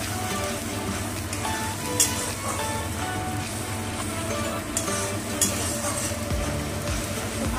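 Potatoes sizzle and fry in hot oil for a fish curry, with a steady crackling hiss and occasional scraping clinks as they are stirred in the pan, close and continuous.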